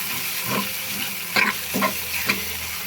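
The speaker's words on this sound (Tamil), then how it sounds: "இங்கே பாருங்கள் அப்படி நல்லா ஃப்ரை பண்ணுங்கள்" Mutton brain frying in a hot pan, a close, steady sizzle broken by a few sharp spatula scrapes and stirs, loud and alone without any voices.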